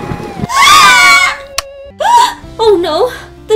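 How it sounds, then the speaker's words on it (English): A baby's high-pitched wailing cry comes in loud, drawn-out bursts, with a rising scream at first and shorter sobbing wails after a brief pause. "Now your baby sister is crying."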